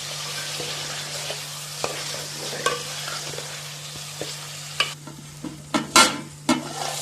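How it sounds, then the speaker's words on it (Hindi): Chopped tomato is dropped into a hot pan and fries with a light sizzle under a low steady hum, followed by louder scraping and stirring strokes near the end. "अब ये 1 टमाटर मैंने काट के रखा हुआ है, तो ये हम इसमें डाल देंगे"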